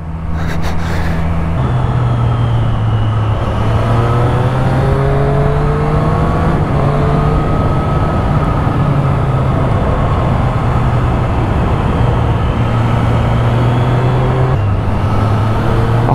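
Motorcycle ridden through tiny Swiss villages on a cold day of about 8 degrees, its engine droning steadily and loud close up, with pitch rising and falling through gear changes and steady wind rush, no talk.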